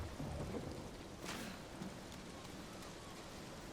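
Steady, faint rain hisses throughout with a low rumble of thunder early on, soft and distant, no voices, in the video game Ghost of Tsushima on PS5.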